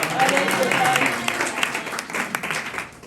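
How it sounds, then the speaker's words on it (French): A church congregation applauds Stéphane, a volunteer who makes the visuals, with steady clapping from many hands that fades slightly over a few seconds, voices faintly beneath. "est-ce qu'on peut applaudir Stéphane?"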